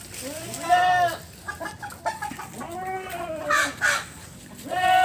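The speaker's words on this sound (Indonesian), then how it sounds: "Juga menggunakan ini peternakan ayam dan entok kawan ya." Chickens cluck and a rooster crows repeatedly on a small farm that also keeps Muscovy ducks, several close, drawn-out calls rising and falling across the clip amid light background bird noise.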